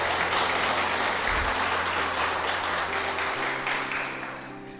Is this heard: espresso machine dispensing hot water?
no